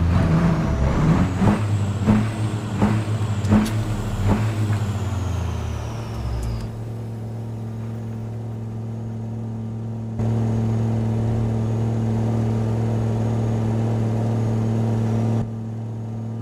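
Truck engine noise from American Truck Simulator: a rumbling diesel drone with several sharp clanks early on, settling into a steady hum that swells louder for a stretch before easing back.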